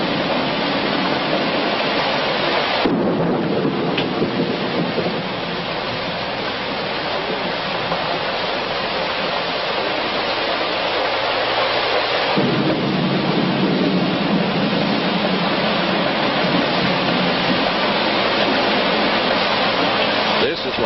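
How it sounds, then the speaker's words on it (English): Heavy rain pours outside a hotel as the first decent rains in four months arrive, a dense, loud, continuous roar with rumbling surges like thunder, running steadily for about twenty seconds. "they are enjoying the first decent rains in 4 months"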